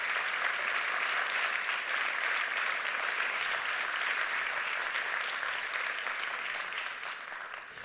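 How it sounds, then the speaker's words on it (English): An audience at an awards ceremony claps steadily for several seconds, the dense applause easing slightly toward the end, with no one speaking over it. "Let's give them all a round of applause to encourage them to keep up their work."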